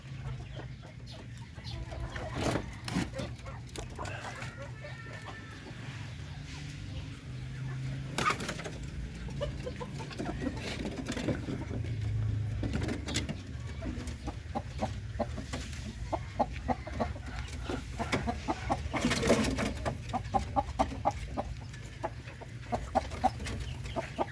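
Darag native chickens and hens cluck continuously in a farm pen, with soft repeated clucks and occasional sharper calls, close by over steady outdoor background noise.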